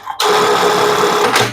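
Bartek 1850 sewing machine stitching, a loud, close, steady whir that starts abruptly and runs evenly for about a second and a half.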